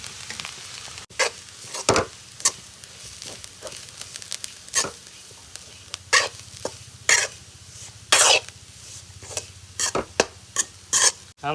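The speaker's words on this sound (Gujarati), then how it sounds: "હવે આપણે નાખવાનું છે ટોપરું" Grated coconut stirred in a pan over a low flame for coconut ladoo, with repeated dry scraping strokes of a spoon in irregular bursts over a faint steady sizzle and no talking.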